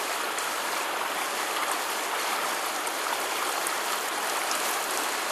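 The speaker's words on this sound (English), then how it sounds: "I'm just allowing the water to drip through, just as it would in nature" Constant hiss of water trickling through a DIY field water filter, even and unbroken throughout, with no voices.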